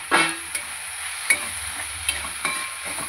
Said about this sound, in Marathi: टमाटर पण आबडधोबड भाजून घेणार आहे त्याच्यामध्ये। त्यातच मी लसूण टाकणार आहे आणि अद्रक।